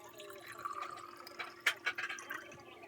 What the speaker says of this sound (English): half fill the third glass with water